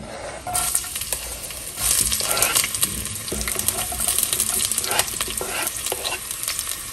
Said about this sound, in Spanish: Voy a agregar el ajo y la cebolla en una cacerola.